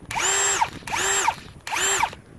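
A small Ryobi PSBHM01 cordless battery hammer drill spins up three times in short bursts. Each burst is a loud, close whine that rises and falls in pitch, with brief pauses between.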